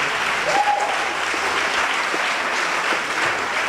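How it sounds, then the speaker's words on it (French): A congregation at a Sunday worship service in a temple applauds steadily, a continuous even patter of many hands at moderate loudness with a short tonal squeak near the start. "Il mérite une double acclamation."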